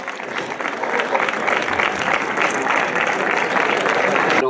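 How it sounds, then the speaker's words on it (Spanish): A crowd at a mountain hike award ceremony in La Vilavella gives warm applause, steady clapping from many hands that builds slightly and holds through to the end, with a voice faintly mixed in. "El aplauso de todos nosotros, como no."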